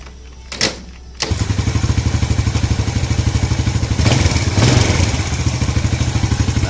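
A motorcycle engine, just repaired after a carburetor fault, fires up after a brief clatter and settles into a steady, loud, rhythmic running close by.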